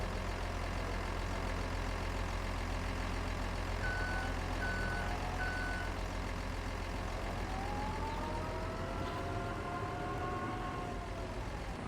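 A truck in Farming Simulator 25 reverses with a few short, evenly spaced beeps over a steady engine drone, alongside a low rumble and a rising whine later on, with no voices.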